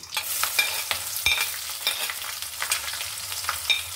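Chopped onion hits hot oil already holding bay leaves, cardamom, peppercorns and cloves, giving a steady close crackling sizzle broken by repeated scrapes and knocks of stirring.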